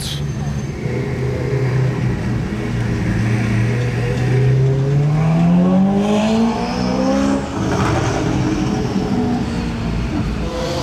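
A Bugatti Chiron engine revs and rises in pitch nearby, its tone climbing steadily, with people talking over the roar.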